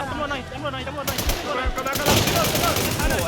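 Gunfire in the online shooter Infestation during a clan war, fast bursts of rapid shots that grow louder and denser halfway through, heard under excited shouting.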